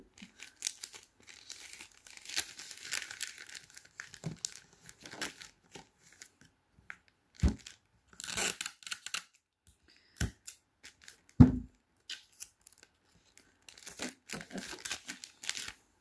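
Wrapping paper crinkling, tearing and being cut with scissors while a gift is wrapped, close up in irregular bursts of rustling, snips and crumpling, separated by brief pauses.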